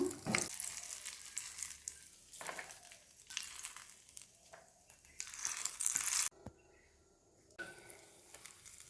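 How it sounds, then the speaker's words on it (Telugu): Dry fruits fried separately in ghee in a pan for Bengali-style paneer kheer make a steady, close crackling sizzle broken by stirring scrapes, then it briefly drops quieter near the end. "డ్రై ఫ్రూట్స్ దేని దానికి సపరేట్గా ఫ్రై చేసుకుంటున్నాను"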